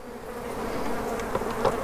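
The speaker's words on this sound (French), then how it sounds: "Donc je laisse les abeilles sortir, hein." Honey bees buzzing at an opened hive during a beekeeper's artificial swarm split, a steady, close droning hum with a few louder individual bees passing near.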